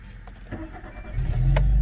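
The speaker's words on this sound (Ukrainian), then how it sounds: "Автомобіль заводиться з півоборота, працює рівно, стабільно, справно" A Volkswagen Golf 3 engine cranks briefly and catches, then settles into a steady, even idle that grows louder and holds close to the microphone.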